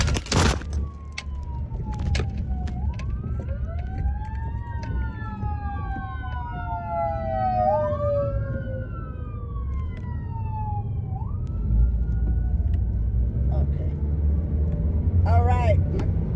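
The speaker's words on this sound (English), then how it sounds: "Poor ambulances. Nobody lets them go through." An ambulance siren wails and sweeps up and down through steady Los Angeles road traffic, its tones rising and falling repeatedly, fairly close and loud.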